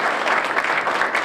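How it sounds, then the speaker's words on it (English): A short burst of audience applause at a Veterans Day gathering, dense close clapping from many people. "And I also wanted a round of applause for Jeannie."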